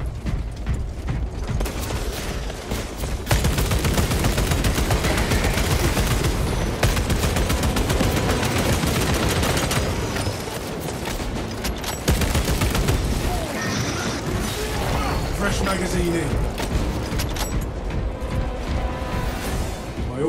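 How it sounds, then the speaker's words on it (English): Weapon reloading amid rapid gunfire in the video game Space Marine 2, with dense mechanical clatter and sustained bursts of automatic fire, loud and close, plus brief voice callouts. "Reloading magazine!"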